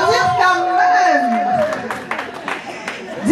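An audience applauds at a pastor's 60th birthday party, a voice speaking first, then a short spell of scattered clapping from the crowd.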